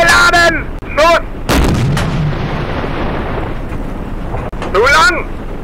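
A Tiger tank cannon in the video game Darkest Hour: Europe '44-'45 booms out, followed by a long rumbling decay, with a voice speaking German briefly before and after the blast.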